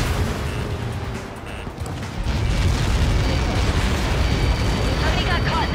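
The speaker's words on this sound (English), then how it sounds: "How many got caught in that explosion?" Missile impact blast in the Ace Combat 7 video game, a sustained roaring, rumbling explosion that swells louder partway through and holds steady to the end, with a game voice speaking over it.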